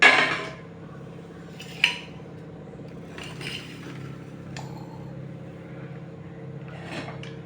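Metal pressure cooker set down on a gas stove in a home kitchen before making Sindhi-style tomato soup: a clanking knock at the start, then a sharp clink and a few lighter metallic taps over low background hum.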